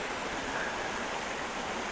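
Waterfall cascades of Saw Mill Branch in Maryland pouring into a deep pool, a steady, loud, broadband rush of water with no break and no voices.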